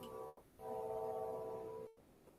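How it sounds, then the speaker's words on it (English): A passing train sounds a steady, tonal horn blast of about a second and a half over a low rumble, fairly loud and alone. "Got the train passing. I can hear that thing."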